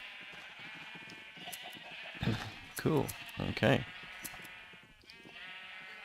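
Several Minecraft sheep bleat in quick succession from a penned flock, loud and close, three distinct calls in the middle over steady game background, with someone speaking briefly before and after.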